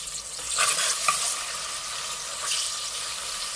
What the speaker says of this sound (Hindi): खड़े मसाले जो हैं उसको प्याज के साथ भूनने से बहुत ही प्यारा टेस्ट आता है